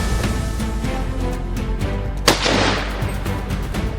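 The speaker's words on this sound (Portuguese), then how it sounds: "nenhum conseguiu escapar dos tiros certeiros e decisivos dos atiradores" Hunters fire at wild boar at dusk: a sharp close gunshot cracks out and decays into a brief rumbling echo, with fainter shots and outdoor rumble around it.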